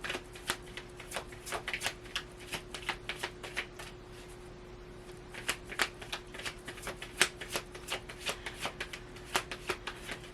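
Tarot cards shuffled by hand: quiet, close, irregular clusters of crisp card flicks and riffles over a faint steady hum, with no one speaking.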